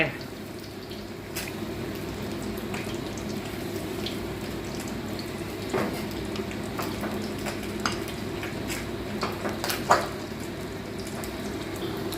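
Mixed vegetables going into a pot of Thai sour curry, with steady stirring and soft simmering, a few sharp clinks of utensil on pot, at close range.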